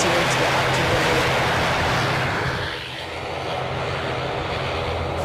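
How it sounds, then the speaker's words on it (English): An Air France Embraer jet taxis onto the main taxiway toward the active runway at Edinburgh airport, a broad, steady distant engine rumble and whine that dips briefly midway. "I can just see the Air France Embraer aircraft now heading onto the main taxiway to the active runway"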